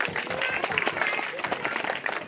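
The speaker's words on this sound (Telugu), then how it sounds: "Clap for her please." An audience at a school parents' meeting claps for a mother invited on stage. The clapping is dense and steady throughout, with crowd murmur mixed in.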